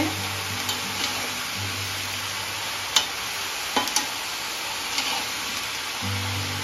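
Vegetables stirred in a frying pan for a vegetarian Bengali pachan, with a steady sizzle under scattered scrapes and clicks of the spatula, a low hum coming and going.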